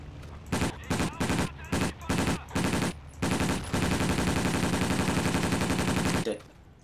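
Video game gunfire rings out in short automatic bursts, then settles into one long sustained stream of rapid shots that stops abruptly; loud and close, with no talking.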